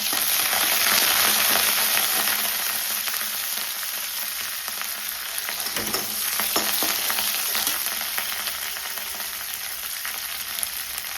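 Coriander seeds, cumin and curry leaves fry in hot oil in a pan for a coconut chutney, giving a steady, close sizzle with occasional stirring scrapes.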